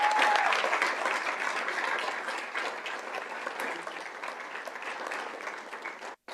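Sustained audience applause fills a school governing board meeting, dense and steady at moderate distance, thinning slightly toward the end before a brief break.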